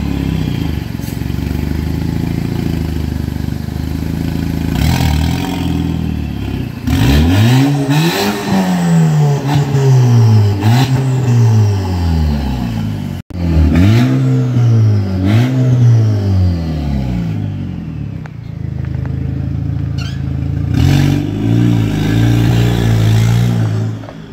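A 2.0T Audi A4 with a fully straight-piped exhaust revving hard and loud, repeated rising and falling engine sweeps with a brief cut in the middle, then a rough idle near the end.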